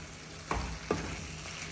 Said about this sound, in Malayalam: അവസാനം കുറച്ച് കറിവേപ്പിലയും ഇട്ടിട്ട് ഒന്ന് ഇളക്കിയിട്ട് യോജിപ്പിക്കാം